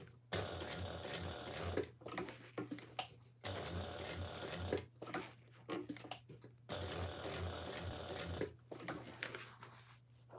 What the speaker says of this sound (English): now let's stitch down the whites of the eyes